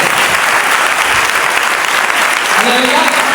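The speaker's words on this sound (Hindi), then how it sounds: "ताली बजा सकते हैं।" A church congregation applauds during a pastor's sermon, a dense, steady wash of clapping that stays loud and unbroken from start to finish.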